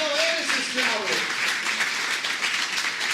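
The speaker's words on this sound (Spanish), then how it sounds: "Den un aplauso al Rey." A church congregation applauds during a Spanish-language sermon, a steady wash of clapping from many hands with voices calling out underneath throughout.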